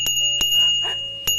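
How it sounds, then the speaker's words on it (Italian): Bicycle bell rung in three separate sharp dings, the first two close together and a third after a short pause, each with a bright ringing tone that lingers, no talk. "campanello per segnalazioni acustiche"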